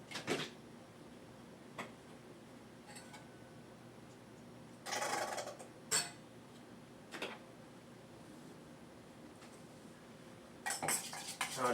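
A utensil clinks and scrapes against a bowl while Beijing beef sauce is mixed, several short bursts of clattering separated by quiet pauses.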